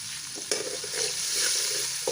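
Black pepper and salt roast with spices in a hot pan for cumin pulao, giving a soft steady sizzle with a few brief scraping stirs, close and quiet with no talk.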